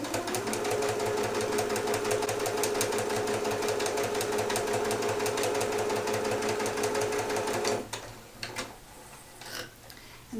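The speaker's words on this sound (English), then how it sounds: "So you're going to put the 2 pieces right sides together and stitch those down." A sewing machine stitches two fabric pieces together, right sides facing, in one loud, even, buzzing run of about eight seconds. It then stops, leaving a few faint clicks and handling noises.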